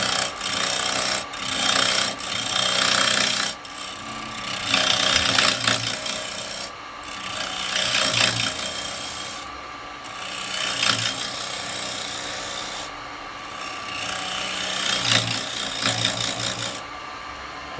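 A carbide chisel scrapes against a spalted beech bowl spinning on a wood lathe, a steady rough hiss that swells and fades in repeated passes as the tool moves across the wood.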